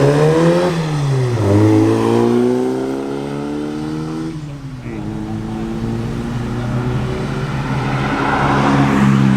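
A Hillman Imp moves off at a classic car meet, its small engine revving up through rising gear pitches and then settling into a steady drone. Loud and close, with voices faintly underneath.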